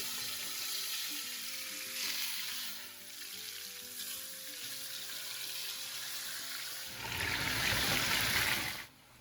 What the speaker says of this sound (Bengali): পরদিন প্যানে তেল গরম করে মাংসের টুকরোগুলো আগে ভেজে নিবা।